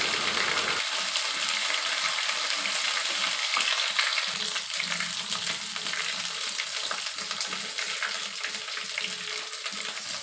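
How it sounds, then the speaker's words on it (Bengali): Ginger and garlic paste with spices fries in a pan while being stirred steadily, a dense close sizzle with scraping underneath and no speech. "এখন মশলাটাকে ভালোভাবে নিয়ে নিচ্ছি তবে এমনভাবে নাড়াতে হবে যেন পুড়ে কালো রঙের না হয়ে যায়"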